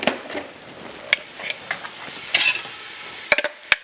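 Meat and eggplant fry in a hot pan with a soft, steady sizzle, broken by scattered sharp clicks and scrapes of a utensil stirring the pieces.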